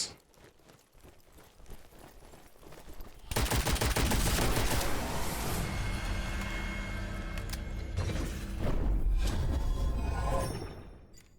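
Gunfire in the video game Witchfire: after a quiet stretch of faint clicks, a dense run of loud, close shots and impacts erupts and continues with brief surges, fading near the end.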